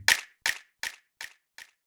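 A single sharp clap sample followed by four evenly spaced echoes from a delay effect in Ableton Live, fading progressively quieter, a clean rhythmic delay tail.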